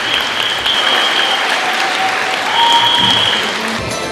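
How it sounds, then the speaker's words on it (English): Audience applause at the Young Scientists Kenya awards ceremony, a loud, dense, steady clapping from a large crowd that holds throughout, with faint voices beneath it. "A round of applause right there."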